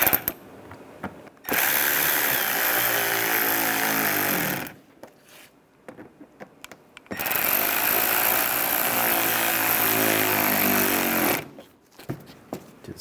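Two long bursts of a power tool running down screws on a 2011-2015 Chevy Cruze A/C condenser, each a loud rattling whir lasting about three to four seconds, separated by quiet pauses with small clicks.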